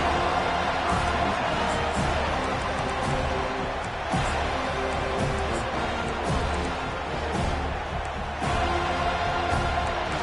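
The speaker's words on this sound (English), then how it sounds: "This crowd bringing the energy and noise early." A college football stadium crowd roars and cheers in a continuous dense wash of noise throughout, loud and sustained, with brief swells but no clear talk on top.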